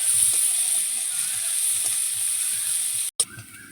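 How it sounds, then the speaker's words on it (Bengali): Chopped garlic, onion and green chili fry lightly in oil with a bright continuous sizzle, a few soft stirring scrapes underneath, and a brief dropout near the end before the sizzle resumes. "রসুন, কাঁচা লঙ্কা আর পেঁয়াজ কুচিটা আমি হালকা করে ভেজে নেব"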